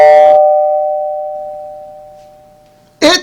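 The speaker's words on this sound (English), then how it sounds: "She rang the bell" A single doorbell chime rings out clearly, its tone ringing and slowly fading over a few seconds before a second sharp ring cuts in at the end, a close, isolated sound effect.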